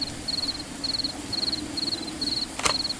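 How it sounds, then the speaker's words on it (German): A cricket chirps in the video game Morels: The Hunt 2, giving regular, evenly spaced high trills over a soft rain-like hiss, close and clear, with one sharp click near the end. "Aber wir brauchen eigentlich eine Grille. Das ist das, was ihr hier hört."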